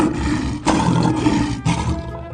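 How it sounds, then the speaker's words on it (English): A lion in a 3D animal slide video game lets out a sustained, loud roar lasting a couple of seconds, with two brief surges, over steady game background noise. "Lion."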